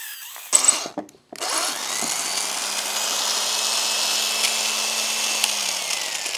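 A Black and Decker power tool starts up during woodturning of a mango wood slab, a short burst and pause before it settles into a steady, loud whine that runs on close by.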